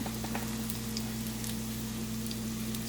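Jamaican whole wheat dumplings frying in a pot of oil, giving a steady, close crackling sizzle with scattered pops that runs unbroken throughout, with no talking.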